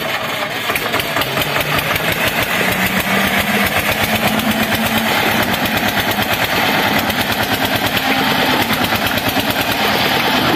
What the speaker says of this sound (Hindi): ये ट्रैक्टर है देखो